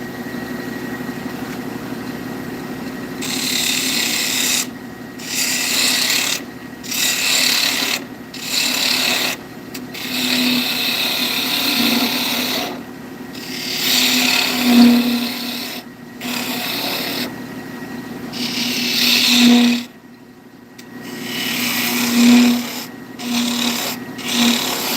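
Woodturning tool being sharpened, a steady gritty rasping grind with repeated short pauses as the tool is lifted and reapplied, close and moderately loud over a faint motor hum.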